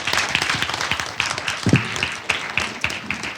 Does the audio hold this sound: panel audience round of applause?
yes